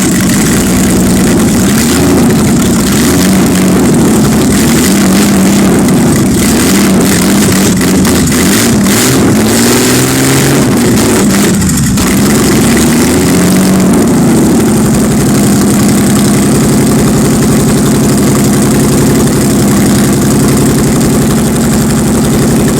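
A turbocharged BMW M20 car engine runs steadily and loudly throughout on its first start, with a deep, constant rumble and slight variations in pitch, no voices present.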